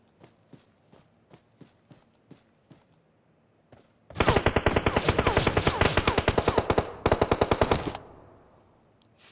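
Gunfire in the video game Deathrace: a few spaced single shots, then about four seconds of loud, dense rapid automatic fire that breaks off briefly before ending, with no talking.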